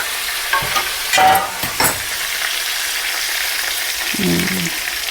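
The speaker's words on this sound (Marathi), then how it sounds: "हे असं परतून घ्यायचं आहे ह्याला." Bitter gourd with masala being stir-fried in a pan, a steady close sizzle with a few scraping stirs early on and a short rattle near the end, no speech.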